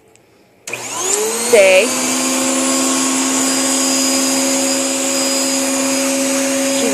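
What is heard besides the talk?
vacuum cleaner running on a dog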